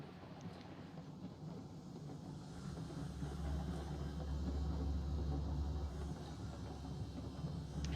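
A train rolls along the main line in the Railroads Online railroad simulation game, a steady low rumble of wheels and engine that swells slightly midway, continuous and fairly quiet with no talking.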